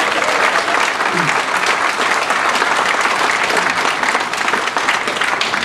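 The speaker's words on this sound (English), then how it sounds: "let's give a big round of applause to the Thomson Celebration" A large audience aboard the Thomson Celebration cruise ship in the Caribbean gives loud, sustained applause, with dense continuous clapping filling the whole stretch and no talking over it.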